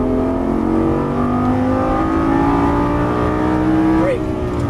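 A Lamborghini Gallardo LP550-2 accelerates hard on a track, its engine note climbing steadily in pitch as the car pulls out of a corner, loud and close throughout.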